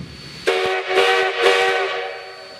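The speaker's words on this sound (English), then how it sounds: "the No. 3's whistle was found to be in serious need of repair" Whistle of steam locomotive No. 3 at Railtown, freshly repaired: a loud, rich multi-tone steam whistle sounding in three swelling blasts over about two seconds, with a hissing steam edge, then fading.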